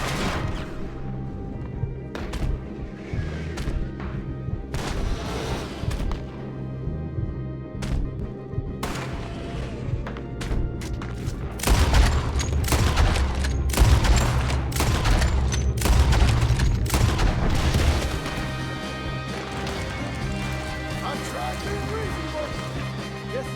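Gunshots ring out in a Red Dead Redemption 2 gunfight, starting as scattered sharp cracks, then building into a loud, dense barrage of overlapping shots and booms before easing off again.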